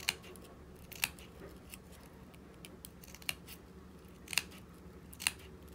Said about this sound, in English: I'm just cutting right up to that metal clip. Cutting through all these layers at once.